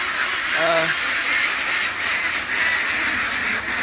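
A single brief duck quack on a farm rises once over a loud, steady wash of background noise, and no other calls stand out.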